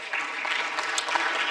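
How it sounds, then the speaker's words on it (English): Brief, steady applause fills the room from an audience at the Africa Business Forum, a continuous wash of many clapping hands with no break. "So another round of applause for Abu there."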